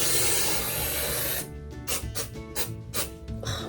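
A hair mist spray bottle gives one long continuous hiss, then several short, sharp bursts of spray in quick succession, close and clear, with no voices.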